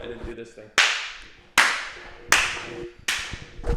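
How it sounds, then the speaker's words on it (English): Four sharp hand claps to sync a recording ring out at a steady, roughly even pace, each with a short room decay; faint murmuring precedes the first clap. "We clapped."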